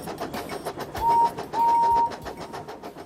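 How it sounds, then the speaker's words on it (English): Engine sounds from a Thomas & Friends storybook CD: a rhythmic chuffing steam engine puffing steadily, with two short whistle-like tones partway through, loud and close. "These are the sounds that the engines make."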